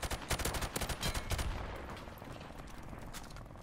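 Rifle fire in Call of Duty Modern Warfare Remastered: a rapid run of loud, close shots in the first second and a half, followed by a fading rumble.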